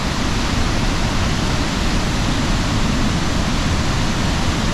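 Rain-swollen Oxley Falls between Tamworth and Port Macquarie, a 65–70 metre drop, roars as a dense, steady rush of water, loud and continuous with no break or voices.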